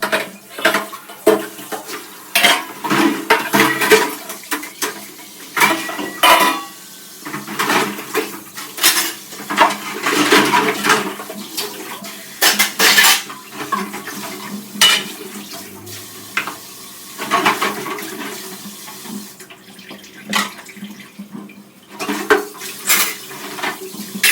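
Dishes, pots and cutlery being washed by hand, with constant close clatter and clinking of metal utensils and pans, irregular knocks and scrapes, and occasional splashes of water throughout.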